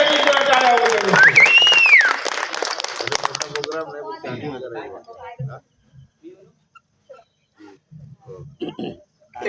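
Applause from an audience at a village magic show held for Ganesh Jayanti, loud and dense in the opening seconds, then thinning into scattered claps and a whistle amid crowd noise and voices.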